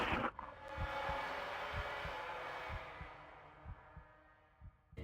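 A protagonist's heartbeat in the horror game Hellnight thumps steadily at a slow, even rhythm beneath a loud rushing, rumbling noise that gradually fades.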